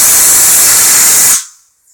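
A loud, close hiss of air and moisture blasts from the line of a Harbor Freight 10 gallon compressor, holding steady for over a second before cutting off abruptly into near silence.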